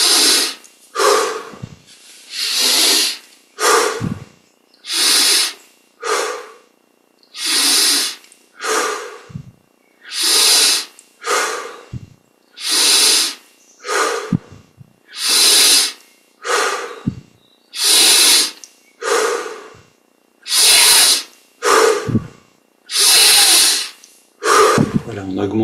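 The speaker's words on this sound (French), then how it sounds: "on prend 20 grandes respirations" Deep, slow breaths during a seated meditation exercise, each long inhale and exhale forming a steady rhythmic sequence of about twenty close, airy breaths with brief pauses between them.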